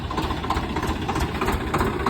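A tractor engine idles steadily with a low, even rumble and faint knocking, close by and continuous, with no talk over it.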